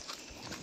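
Horse hooves at the hill station of Matheran clip-clop in a couple of soft, quick steps, faint and a little distant, with no talk.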